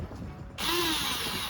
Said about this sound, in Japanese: はい、じゃあ穴を開けていきます。